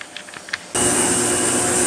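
Brief faint clicks, then a machine abruptly switches on with a loud, steady whirring hum close by, like a cleaner and dryer running together.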